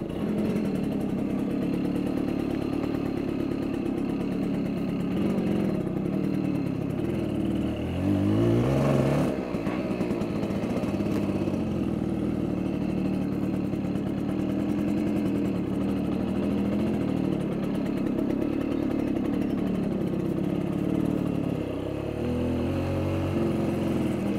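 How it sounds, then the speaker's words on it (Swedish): A small old engine chugs steadily for a long stretch, its pitch rising and falling briefly as it revs, with no voices. "Så låt en riktig moped."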